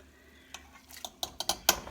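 Sautéed green pepper and onion in butter being added to a pot of lentil soup, a handful of light clinks and scrapes of a utensil against the pot, close and quiet, with no talking.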